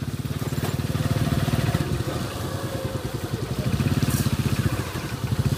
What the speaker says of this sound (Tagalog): Malakas tong motor ni Katekir Jason dahil naka air cooler siya